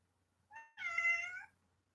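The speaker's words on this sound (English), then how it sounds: "I hear my cat, so 1 second." A house cat gives a single close meow, a brief rising chirp flowing into a longer clear tonal cry, against near silence.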